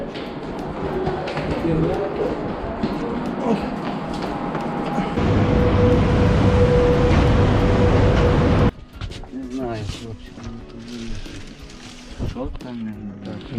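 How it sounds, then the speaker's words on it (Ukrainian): A passenger train pulls into a station in Lviv with a steady, loud rumbling roar and a faint tonal whine, then the noise drops off abruptly as it stops; people talk throughout. "Потяг прибув."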